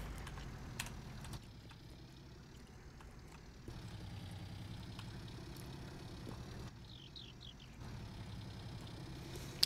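Low, steady idle of a John Deere Gator utility vehicle in the farming game Farming Simulator, a quiet continuous engine rumble with a faint ticking, shifting slightly in level a few times.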